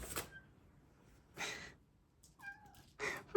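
A pet cat meows repeatedly by an open fridge while waiting for food, giving several short, close, insistent calls separated by brief pauses, alone without talk.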